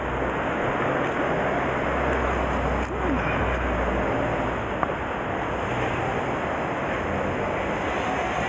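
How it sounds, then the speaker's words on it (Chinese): Steady seaside breeze rushing across the microphone with soft surf and wash underneath, continuous and fairly loud throughout. "微风吹啊！"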